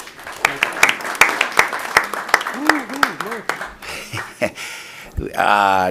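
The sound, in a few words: audience applause for a senator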